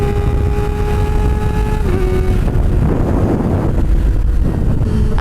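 A Kawasaki ZX-4RR motorcycle fitted with a loud aftermarket exhaust revs up close, a steady high engine drone with rising and falling revs and a roughening surge midway, mixed with wind rumble.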